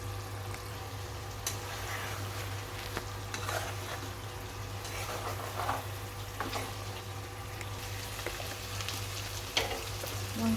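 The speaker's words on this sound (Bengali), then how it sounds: "মশলাটাকে একটু আমি সুন্দর করে কষিয়ে নিলাম" Spice masala for chicken fries in a pan with an even, continuous sizzle, low hum underneath and scattered scrapes of stirring through the whole stretch.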